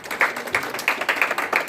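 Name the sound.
congregation clapping for the Lord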